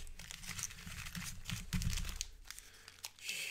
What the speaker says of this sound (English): Let's randomize these so I'm not just getting red cards all the way. So we're going to shuffle these a bit.